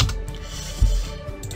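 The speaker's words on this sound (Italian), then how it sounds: "faccio CTRL più A all'interno della casella di testo" Keys clack on a computer keyboard as a Ctrl+A shortcut is pressed, a few close, crisp taps with one sharper keystroke in the middle, no talking.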